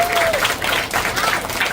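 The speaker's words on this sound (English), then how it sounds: "Give them a round of applause and give yourselves a round of applause." A crowd applauds steadily at a school construction steel topping-off ceremony, dense clapping filling the space throughout without pause.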